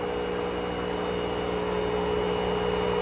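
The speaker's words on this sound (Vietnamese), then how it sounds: "Lúc này thì chiếc máy giặt Electrolux đứng im rồi, chỉ còn chiếc máy giặt LG hoạt động thôi" A 9 kg LG washing machine runs on its own beside a stopped Electrolux, giving a steady, moderate mechanical hum with a faint tonal whine and no pauses.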